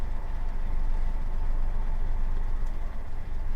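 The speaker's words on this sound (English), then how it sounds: "Nice little Defender pickup he's got there." A Land Rover Defender pickup's engine idles nearby on a rural UK farm, a steady low rumble that holds even throughout with no speech.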